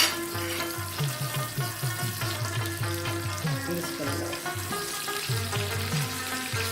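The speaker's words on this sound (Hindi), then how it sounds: "वैसे चपली कबाब बनते हैं एनिमल फैट में, मैं इसे कुकिंग ऑयल में बना रही हूँ।" Chapli kebab patties frying in cooking oil rather than animal fat, a steady close sizzle throughout, under a rhythmic tonal hum with repeating low pulses, no talking.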